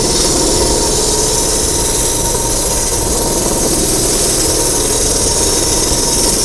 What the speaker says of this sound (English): So what I'm doing is I'm kind of pulling it away, and I'm correcting it and grinding a new center